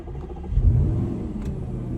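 A 2014 Audi RS5 B8.5 coupé with a 4.2 V8 FSI engine starts up via a push-in dash key, giving a short, loud low rumble that swells and settles into a steady close idle.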